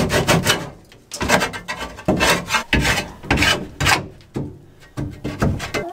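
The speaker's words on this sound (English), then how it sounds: "we keep an old trowel handy and we just scrape it down" An old trowel scraping down surfaces inside a chicken coop, making loud rasping strokes in an uneven rhythm, roughly a dozen short scrapes with brief gaps between them, close up and without talk.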